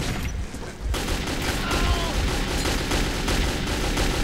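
Sustained gunfire in the Metro 2033 video game, a dense fusillade of shots rattling almost continuously from start to finish with no speech.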